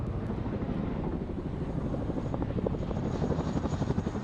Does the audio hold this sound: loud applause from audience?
no